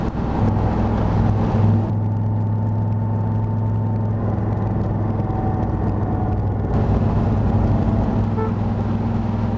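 A 1966 Chevrolet Corvette Stingray with a big-block engine drives along, its deep steady drone rumbling loud and close from inside the car, with a shift in tone partway through as it changes gear.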